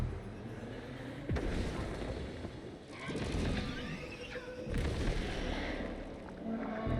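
Missile explosions during a boss fight in the puzzle adventure game COCOON: three heavy booming blasts a couple of seconds apart, each with a deep rumbling tail, set against a dense game soundscape with no voices.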